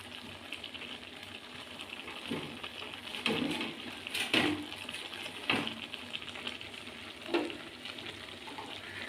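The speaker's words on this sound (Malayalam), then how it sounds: "നമുക്ക് ഇളക്കി യോജിപ്പിക്കാം" Grated coconut is stirred into a frying pan of ash gourd and prawn stir-fry, giving soft scraping strokes and a few sharper utensil knocks over a low, steady sizzle.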